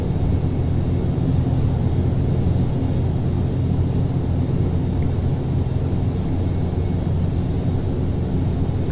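ATR 72-500 turboprop airliner climbing in a flight simulator, a steady low engine drone and cabin rumble, constant and loud with a faint high whine, no talk.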